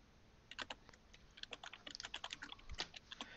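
Computer keyboard typing during a live sports stream, a quick irregular run of sharp plastic key clacks close to the microphone, growing denser toward the end with no talking.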